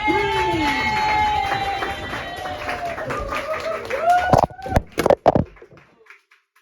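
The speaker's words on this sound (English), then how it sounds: "put your hands together, stand your feet and clap your hands" Comedy club audience at a pub gig clapping and cheering as a comedian is introduced, a loose crowd of claps and whoops under voices and a sustained tone, breaking into a few sharp loud claps before falling quiet.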